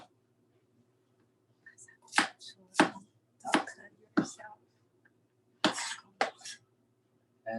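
Knife chopping garlic on a board, about eight sharp separate chops at an irregular pace after a quiet start, with a faint hum behind.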